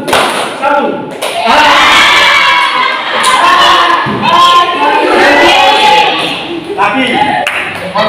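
Classroom group clapping in a counted rhythm pattern, loud bursts of many hands striking together in short sets with brief gaps between them, a voice calling out over the claps.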